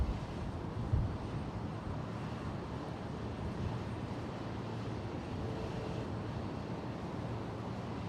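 A FlexJet Challenger 350 business jet arriving at San Jose airport produces a steady, broadband distant jet roar that holds evenly throughout, with a faint low rumble underneath and no talking.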